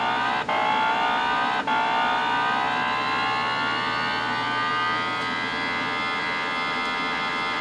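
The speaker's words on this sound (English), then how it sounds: "Open up the throttle and release the clutch." A first-generation Kawasaki Hayabusa engine screams under open throttle, its pitch rising continuously toward the rev limiter, loud and close, with two brief dips near the start.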